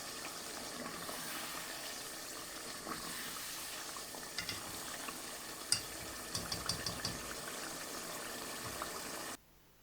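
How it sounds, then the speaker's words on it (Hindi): Chicken with spices and dried coriander is sautéed in a pot (handi) for a chicken and chickpea curry, a steady sizzle under repeated scraping strokes of a spoon, close and fairly quiet before cutting off abruptly. "तो बस अब इसको जल्दी से भूनेंगे, जल्दी जल्दी"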